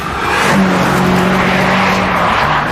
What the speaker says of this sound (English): VTEC engine in this is astonishing.